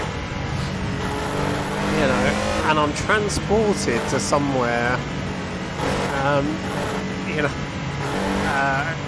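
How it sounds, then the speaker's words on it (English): A Porsche flat-six engine drones steadily in the Assetto Corsa racing game, played in VR on the LA Canyons mod. The engine sits under someone talking throughout. "I can hear the sound of a flat six engine, unmistakable,"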